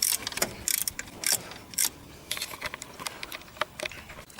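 Studs being cranked up by hand on the thermostat housing of a Land Rover Freelander 2, heard as quick, close, irregular ratcheting clicks and metallic ticks in short bursts, no talking.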